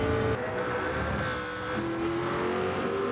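Race car engines roar loudly and continuously in the video game Gran Turismo 7, the high whining pitch shifting as the cars speed through a sweeping right-hand bend.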